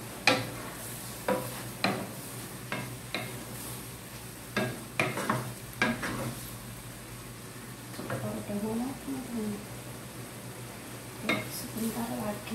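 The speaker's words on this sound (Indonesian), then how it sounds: "terus kita aduk." Egg mixture for tamagoyaki, seasoned with a little salt, is stirred in a pan, giving repeated soft scraping strokes at an uneven pace over a low sizzle, with faint voices in the background.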